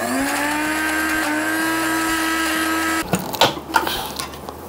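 A kitchen blender grinds summer radish for Korean radish salad (musaengchae) with a loud, steady motor drone for about three seconds, then cuts off, leaving a few louder clunks and rattles of the jar.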